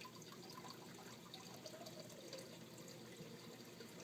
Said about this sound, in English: Vortex formed. Water in full drain now.